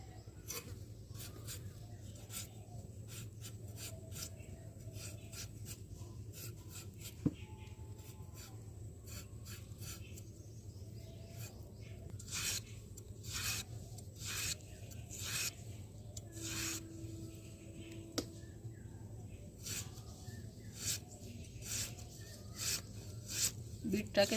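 Two medium potatoes are cut into fine shreds with a knife for a beetroot dish: a long, quiet run of rapid, scratchy strokes with soft thuds, and faint talk in the background.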